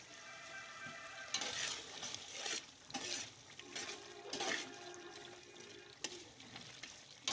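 Beef sizzles and fries in yogurt for a karahi, with a steady frying hiss broken by several louder bursts of stirring and scraping in the pot.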